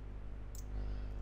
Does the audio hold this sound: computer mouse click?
yes